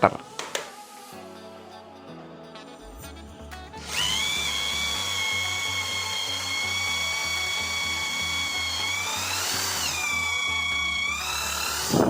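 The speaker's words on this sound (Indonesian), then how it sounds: "Cepat sekali ya, nggak ada kendala sama sekali untuk mengebor kayu dengan mata bor 12 mm." An impact drill, model DCA AZJ16, bores through 15 cm thick mahogany with a 12 mm wood bit: a loud, steady high whine runs continuously after a quieter start, with pitch wavering briefly near the end.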